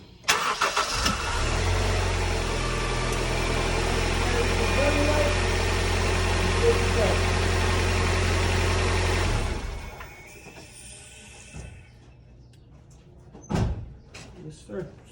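A 2000 Honda CR-V engine cranks, starts and settles into a steady idle, running loud and close for several seconds before shutting off, followed by quieter clicks and a door-like thump.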